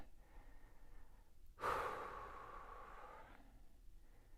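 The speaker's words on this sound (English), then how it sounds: "5 big breaths, really focus on that out breath." A single deep, drawn-out exhale through the mouth during a bodyweight hip stretch, close and soft, fading slowly over a couple of seconds amid quiet breathing.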